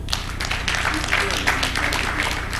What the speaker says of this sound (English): I hope you will clap for them now.